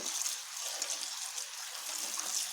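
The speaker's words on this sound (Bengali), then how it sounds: "এবার আমি ভালোভাবে ধুয়ে নিচ্ছি এগুলোকে এইভাবে ধুয়ে" Ingredients being washed by hand in water in a basket, a steady close splashing and gushing of water that continues without pause.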